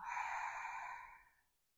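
A slow, deep exhale through the mouth during yoga breathing, soft and breathy, steady for about a second before tapering into silence.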